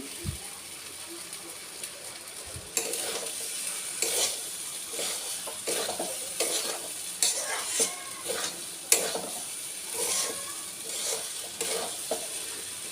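Rice for pulao is stirred and fried in a pan with a soft sizzle and repeated scraping strokes of a spoon, close and moderately quiet, with no talk.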